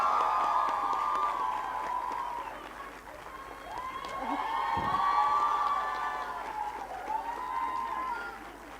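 A crowd at a public health conclave cheers and applauds the solo dance winner, with waves of whoops and shouts swelling and receding over steady clapping for several seconds.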